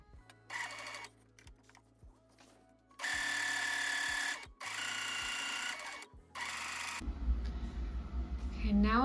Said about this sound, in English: I'm just gonna sew one straight line on this one piece of fabric here